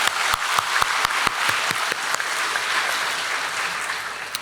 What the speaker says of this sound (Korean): 하나님께 감사 박수 올려드리겠습니다